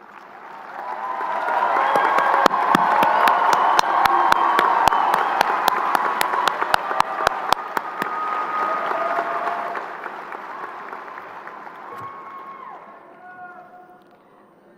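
A high school graduation audience in Christiansburg applauds award and scholarship recipients, a dense, loud sustained clapping from a large crowd with scattered cheers, swelling then slowly tapering over about fifteen seconds.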